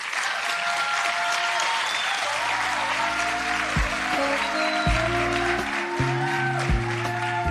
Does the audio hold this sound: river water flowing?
no